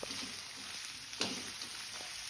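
Chopped onion frying in a pan with oil, a faint steady sizzle with a brief louder hiss and stir partway through, no talking.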